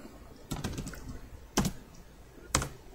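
Keys clack on a computer keyboard as Unity3d game code is typed, a quick flurry of faint close taps followed by two louder single strokes, with no talk.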